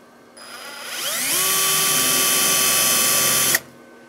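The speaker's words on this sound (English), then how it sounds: "you only want to drill an 1/8 inch hole through this outside piece that we just put on" A power drill bores a small 1/8 inch hole through the outer cab corner panel of a 2001–2006 Chevrolet Silverado 2500, a high steady whine that spins up, holds loud and close for about two seconds, then cuts off.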